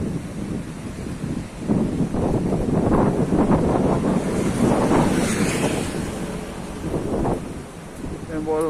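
Rough-weather surf on the beach along the Benidorm seafront in Spain, a continuous broad roar of breaking waves mixed with heavy wind buffeting, loud and close throughout.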